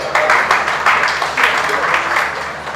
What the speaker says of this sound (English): the DJ and the lady entertainer, I want to give them a round of applause